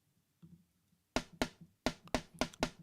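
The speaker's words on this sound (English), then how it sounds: "There is a snare called the popcorn snare that I really like." The popcorn snare sample from Yosh's Drum Warehouse volume 2 hits eight times in a quick, irregular rhythm after a faint opening, each crack sharp, bright and close, with no talk.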